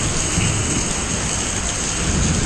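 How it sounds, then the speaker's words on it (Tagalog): Heavy rain pours steadily in a dense, unbroken roar, close and loud, with no voices over it. "Mukhang malakas na ulan ito maghapon na."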